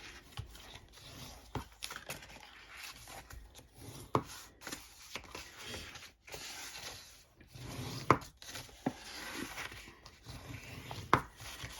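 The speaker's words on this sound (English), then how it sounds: "we're going to start to fold and burnish on all of our score lines, like so" Paper being folded along score lines and burnished for a Stampin' Up tassel box, giving soft scraping and rubbing strokes with a few sharp creases and taps, close and fairly quiet, no voices.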